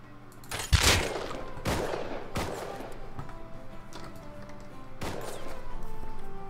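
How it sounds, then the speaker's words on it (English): Bursts of gunfire in the survival game Rust, several sharp loud shots at irregular intervals with a rumbling, echoing tail between them, no talking. "This one's shooting at somebody else just around this corner."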